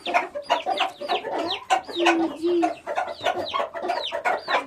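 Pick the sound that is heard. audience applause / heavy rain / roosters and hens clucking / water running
roosters and hens clucking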